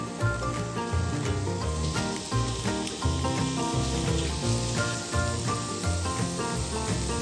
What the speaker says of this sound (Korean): 중약불의 달군 팬에 앞뒤로 골고루 익혀주세요